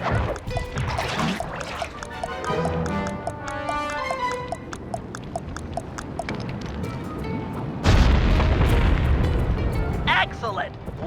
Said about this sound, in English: The dynamite when you get near the anchor, or kaboom!